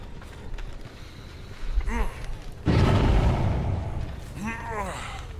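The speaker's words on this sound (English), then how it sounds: "What was that first explosion? Was that a gen being messed up?" A generator blowing up in the horror multiplayer game Dead by Daylight: a sudden loud boom that rolls into a sustained rumble, with voices speaking around it.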